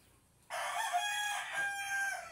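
A rooster crows once near a backyard chicken coop outside a house, a loud, close, sustained call that starts abruptly and holds for about two seconds against a quiet background.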